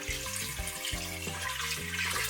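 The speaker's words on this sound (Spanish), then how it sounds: "Aquí le vamos a poner 5 tazas de agua." Water pours steadily into a cooking pot holding beef concentrate for a barbacoa broth, a continuous splashing stream heard close up with tonal background sounds running underneath.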